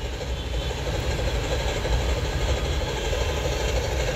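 A train in the Indian Bike Driving 3D video game, a continuous loud mechanical rumble of a passing rail engine with steady low drone, no talk.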